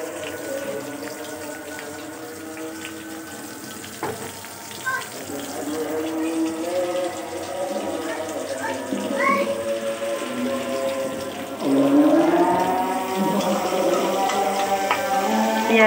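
Chopped onions hit hot oil in a pan, cooking for dried fish, giving a steady bright sizzle and hiss with occasional stirring clatter, louder from midway on, while a voice talks faintly in the background.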